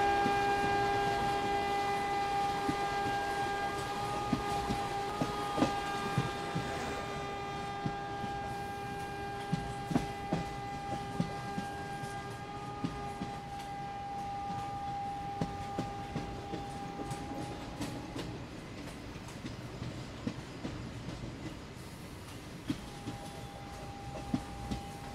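Ahmedabad–Mumbai Central Double Decker Express crossing near Vasai Road, a long steady rumble of rolling carriages with sustained horn-like tones at moderate volume and scattered clacks, no talk.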